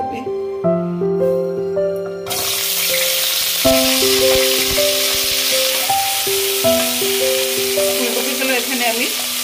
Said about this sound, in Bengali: ফুলকপিগুলো এখানে আমি হালকা ফ্রাই করে নেবো